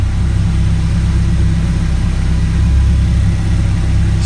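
A Honda Civic EK engine idles with a steady, loud low rumble close to the microphone, holding an even drone with only slight swells, and no one speaking.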